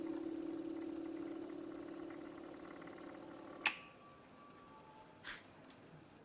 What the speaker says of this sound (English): I'm going to activate the pump.